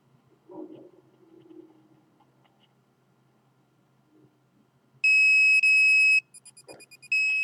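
Electronic detector emitting loud, sharp high-pitched beeps as a hand is placed on it, sounding in a sustained tone, then broken pulses and a final long tone, after faint quiet rustling and a low background hum.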